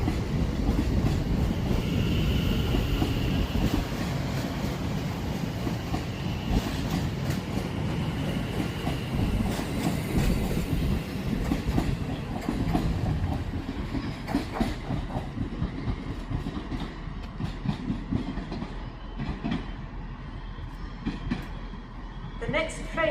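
A train runs through Crewe station on the West Coast Main Line, bound for London Euston, its wheels clattering over rail joints with a long rumble that fades gradually, a brief two-tone horn, and a squeal near the end.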